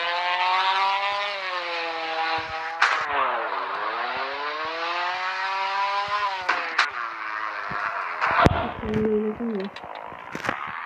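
A Tofaş car's engine drones loudly as it drives across a grassy field, its pitch dipping and climbing with the throttle, with bumps and clatter toward the end.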